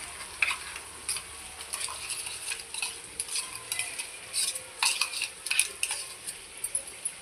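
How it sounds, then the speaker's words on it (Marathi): Ground masala with cooked tomato being sautéed in oil for chicken masala, with repeated close spoon scrapes and clinks against the pan over a low, steady sizzle. "आणि हा आता मसाला आपण तेल सुटेपर्यंत चांगला परतून घेऊया।"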